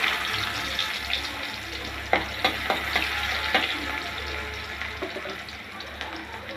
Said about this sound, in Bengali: তেলটা গরম হয়ে গেছে, এখন দিয়ে দিব পেঁয়াজ কুচি